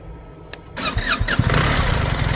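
A BMW R 1300 RT motorcycle engine starts up close by: a short click and a whirring starter squeal, then the engine catches and settles into a steady loud rumble.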